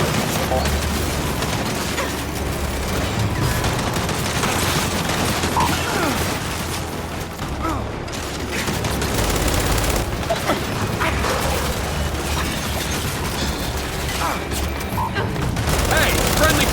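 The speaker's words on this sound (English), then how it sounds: "We're pinned down! We can't deal with those turrets!" Sustained heavy turret gunfire in the Gears 5 video game, a dense continuous fusillade of rapid shots with booming impacts running throughout, loud and close, with combat voices shouting over it.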